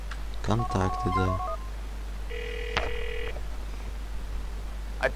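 A phone rings and beeps in Grand Theft Auto IV: a burst of electronic ring tones early on, then a sustained synthetic tone with a click, over a steady low hum and faint background noise.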